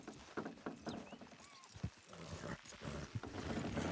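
Horse hooves clip-clop steadily along with snorts and a whinny as horses pull a load in Red Dead Redemption 2, set against outdoor ambience, with a few voices talking faintly in the background.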